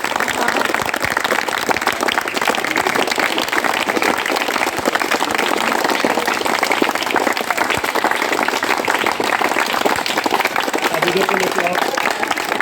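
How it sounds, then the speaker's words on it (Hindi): Loud, steady applause from a crowd at a cricket match prize-giving, cheering the winning team, running continuously for about thirteen seconds with voices mixed into the clapping. "ये हर तरफ तालियां लगा दें।"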